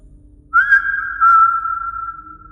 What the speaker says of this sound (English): Can I get a whistle?